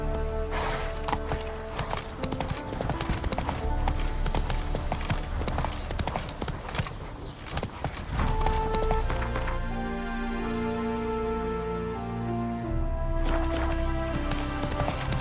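Hooves of the horse Roach pounding at a gallop in The Witcher 3, a steady rapid clip-clop beat under loud game music, the rhythm continuing throughout.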